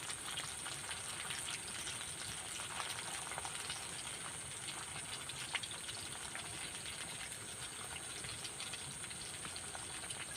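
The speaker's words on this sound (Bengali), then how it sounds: "আমি এইভাবে উল্টে পাল্টে লাল করে ভেজে নেব।" Raw potato and mashed lentil fritters fry in hot oil with a constant soft hiss and faint crackle throughout, quiet and even, no voices.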